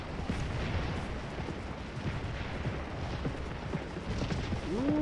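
Cannon and artillery fire rumbling across a Scourge of War battlefield, a dense continuous low roar of distant booms and bursts overlapping without clear gaps, fairly loud, no talking.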